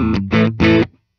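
A Gibson Les Paul Modern Supreme electric guitar, a 2023 model, played through distortion on the middle pickup position with both pickups combined: three chunky strummed chords in quick succession, loud and alone, ending in a short decay.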